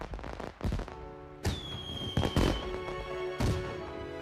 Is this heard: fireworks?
yes